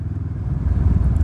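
Vulcan S motorcycle riding along roads in Belgium, with a steady low engine rumble and road noise that holds evenly throughout the short stretch, no voices over it.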